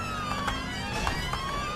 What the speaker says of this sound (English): I have to put on my siren